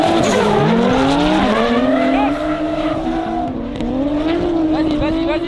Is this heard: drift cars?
yes